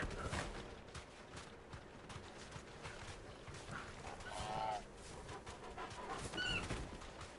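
A dog in the Final Fantasy XVI video game pants rapidly and repeatedly, with a few brief yelps or barks over a busy game soundscape of footsteps and ambient noise, heard at moderate loudness.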